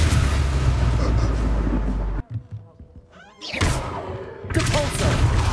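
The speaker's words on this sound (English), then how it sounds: "Avada Kedavra!" The Avada Kedavra killing curse in Hogwarts Legacy lands as a loud burst of magical impact noise, a brief drop to quieter sounds, then further loud spell blasts.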